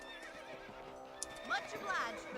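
Horse neighing in the video game Red Dead Redemption, a couple of high whinnies ringing out over steady game ambience, with soft hoof sounds and a voice talking underneath.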